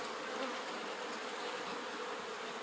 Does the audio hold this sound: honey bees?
yes